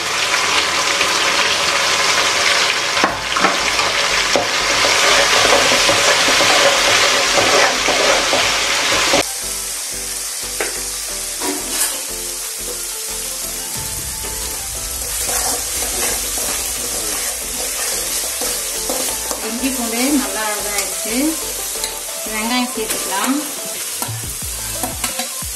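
Ginger garlic paste fries in a pan and is stirred steadily, a loud sizzle that drops to a softer crackle partway through, with repeated scraping of the spoon and no voices.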